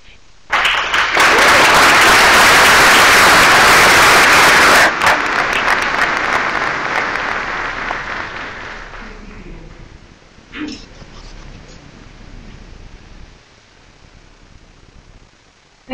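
A ceremony audience at a military award and change-of-command event bursts into loud, dense applause that holds strong for several seconds, then gradually thins and fades away.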